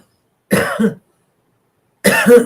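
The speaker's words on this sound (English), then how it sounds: "It hurts to cough though" Two short, strained coughs from a person recovering after gallbladder removal surgery, close-up, with a silent gap of about a second between them.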